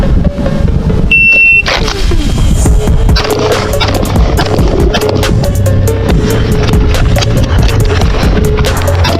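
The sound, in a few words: shot timer buzzer at pistol practice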